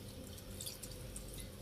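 Water is poured into a pot of cooking meat curry, a soft steady splashing and trickling, quiet and close with no voices.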